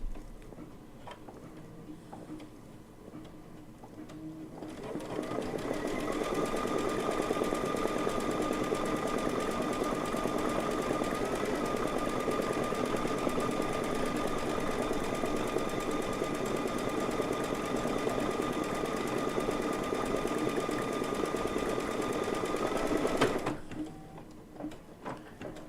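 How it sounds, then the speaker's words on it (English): Sewing machine running a tack down stitch on a quilt, a steady, fast mechanical whir and rattle that holds for about eighteen seconds and then stops, fairly close and with no talking. "Now we will do our tack down stitch."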